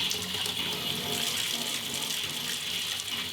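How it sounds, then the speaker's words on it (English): Hot water runs steadily from a household faucet after a water heater's anode rod replacement and tank flush, a continuous close splashing rush into a sink with no voices. "Now we can turn the hot water faucets back on."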